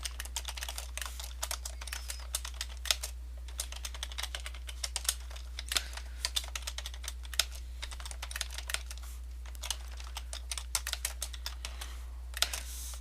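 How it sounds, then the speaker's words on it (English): Rapid, steady typing on a computer keyboard, with dense irregular key clicks running throughout over a constant low hum, no voices present. "I can't type."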